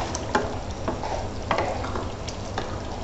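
Potatoes and koftas sizzle with spices in a pan for aloo kofta curry, a steady frying hiss broken by occasional scraping clicks of stirring.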